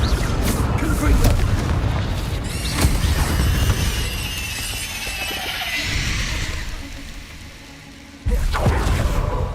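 Confringo fire spell explosions from Hogwarts Legacy: several sharp booming blasts with crackling debris tails, one near the start, more in the middle and a sudden loud burst near the end, with speech mixed in.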